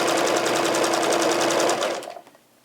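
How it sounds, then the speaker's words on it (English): A sewing machine runs fast and steady, stitching binding onto a quilt, with a close, even mechanical whir that slows and stops near the end. "when I'm sewing my binding on"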